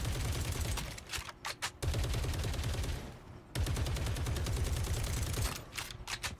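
Scarlet Witch's attack firing in the Marvel Rivals video game: a dense, loud stream of rapid crackling blasts that runs steadily, dropping out briefly twice, with a few sharp pops scattered through.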